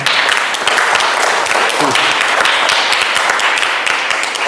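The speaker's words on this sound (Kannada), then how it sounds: "ಅದಕ್ಕೆ ಆ ಬಸವಾದಿ ಶರಣರಿಗೆ ಬರಲಿ ಒಂದು ಜೋರಾದ ಚಪ್ಪಾಳೆ." An audience at a village 75th birthday celebration claps loudly, a dense continuous roar of many hands close by that keeps up the whole time.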